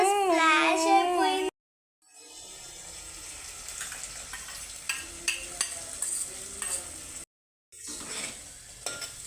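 Egg fried rice stirred in a hot pan, scraping and clattering spoon strokes over a soft sizzle, with two short silent gaps and a brief higher voice-like sound at the start.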